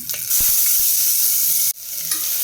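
A chopped large onion sautés in a pan with urad dal and green chili, hissing loudly and steadily with a few stirring knocks early on and a brief pause near the end; no talking.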